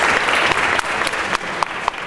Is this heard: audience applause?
yes